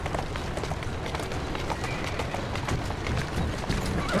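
A horse in Assassin's Creed Syndicate runs with steady galloping hoofbeats under a dense, busy street background, close and continuous.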